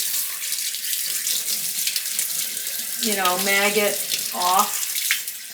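Running tap water pours steadily as brined olives are rinsed under it at a sink, close and continuous, with a short spoken remark partway through.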